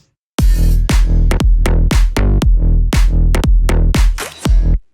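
Punchy electronic drums and a deep bass line pump rhythmically, each hit ducking the bass in a steady sidechained groove, loud and upfront.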